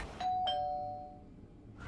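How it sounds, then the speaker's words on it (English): A doorbell chimes in two clear tones, a higher note after the first, ringing out and decaying over a quiet room background in a cartoonish game scene. "Someone just rang my doorbell."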